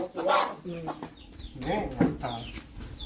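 Chickens cluck in short, close bursts around a farmyard at egg-collecting time, with people talking nearby.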